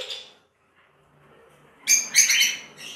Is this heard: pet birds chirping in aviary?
yes